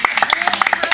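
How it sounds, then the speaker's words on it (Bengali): A group claps quickly and unevenly at an indoor contest game. The short sharp claps overlap with people talking. "একটা হাততালি।"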